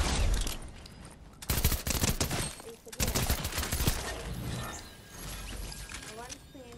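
Bursts of rapid gunfire in a Fortnite trios match, loud and dense with mechanical clatter, while a player talks over the shooting.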